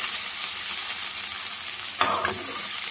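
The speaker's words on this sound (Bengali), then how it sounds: "এবার কেটে রাখা যে সবজিগুলো আছে সবজিগুলো আমি তেলের মধ্যে দিয়ে হালকাভাবে ভেজে নেব" Chopped vegetables frying lightly in oil for a veg sandwich give off a steady close sizzle, with a brief louder stir or clatter near the end.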